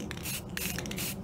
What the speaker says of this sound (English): we're going to apply some gray primer on this just to see